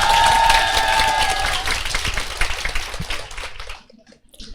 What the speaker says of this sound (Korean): 박수 좀 크게 쳐주십시오